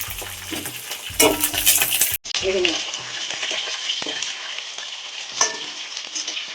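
Curry leaves and green chillies tossed into hot oil for cashew mutton fry, a loud burst of sizzling and spattering after a brief pause, settling into steady frying with stirring clinks and a voice talking over it.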